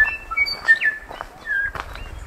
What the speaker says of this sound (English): It's amazing to walk through the forest and listen to that bird song.